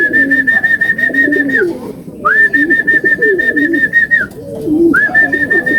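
Racing pigeons on a landing board during a derby race in Ilocos Sur give repeated close, loud cooing calls, with steady high whistling tones running over them in three long stretches.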